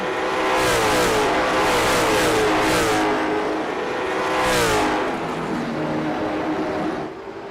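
Race cars roar around the Martinsville short track on the final lap of a heat race, engines loud and close, pitch rising and falling as they accelerate off the corner and sweep past in a continuous layered drone.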